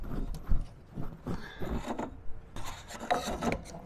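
A hand file rasps back and forth across a part being reworked for an old Volkswagen Beetle, one side of the file coarser than the other, with close, irregular scraping strokes repeating over a few seconds and no talk.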